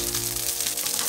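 Chopped cabbage simmers in a pan with a soft, continuous sizzle and faint bubbling, close by and steady through a brief moment, with no talking.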